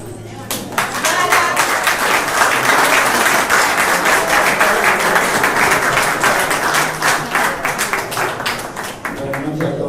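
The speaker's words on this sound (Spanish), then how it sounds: "un aplauso" Audience at a council inaugural session in Villa Angela breaking into sustained applause, dense steady clapping that fills the room for most of ten seconds before thinning slightly.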